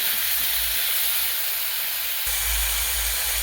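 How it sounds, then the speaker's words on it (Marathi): Brinjal pieces sauté in a pan with salt, giving a continuous bright hiss of sizzling that stays loud and even from start to finish, with no voices. "आता या वांग्यांना आपण ना 5 मिनिटं छान परतून घेऊया"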